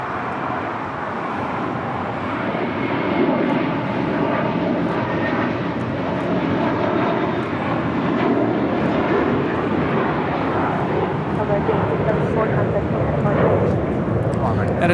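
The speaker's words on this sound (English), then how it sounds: "That is Asiana Airlines 201 Super taking off to Seoul" An Asiana Airlines airliner takes off from runway 24 left at LAX, a loud sustained jet roar rumbling steadily across the whole stretch, with a voice talking over it.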